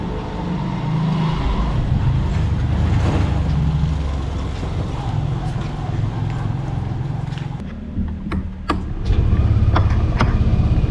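A scooter engine runs on a test drive after a CVT cleaning and oil change, a steady close drone with rattling and clip-clop-like knocks, then sharp clicks near the end.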